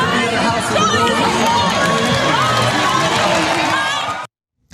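Thousands of people in the congregation at Joel Osteen's church make a loud, dense roar of cheering and overlapping voices that holds steady, then cuts abruptly to silence just before the end.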